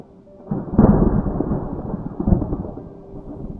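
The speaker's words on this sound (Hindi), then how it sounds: "बाहर मूसलाधार बारिश हो रही थी।" A thunderstorm rolls in with a deep, loud crack of thunder that swells and rumbles for a few seconds, then fades slowly under steady heavy rain, with no voices.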